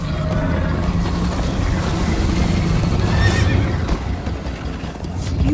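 A horse in Minecraft Story Mode neighs and whinnies while its hooves clip-clop steadily through a chase, loud and close over a rushing background bed.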